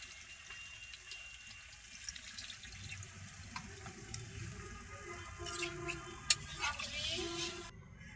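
Water splashes and trickles into a pan of country duck meat curry after long frying, a soft, steady pour close by against low kitchen background noise.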